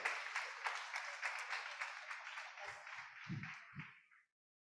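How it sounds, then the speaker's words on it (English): Audience applause at a procurement summit, many people clapping steadily at a distance and thinning out before stopping, with a few low thumps near the end. "Can we applaud him as he comes forward?"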